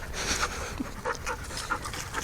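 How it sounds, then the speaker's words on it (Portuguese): A dog pants rapidly and rhythmically up close, quick breathy puffs with a faint whimper mixed in. "Cachorro."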